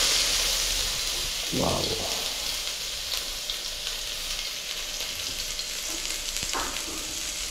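Ginger sizzles in hot cooking oil, a steady close crackling hiss with occasional stirring, while a man briefly exclaims and a couple of short voice bursts sit over it.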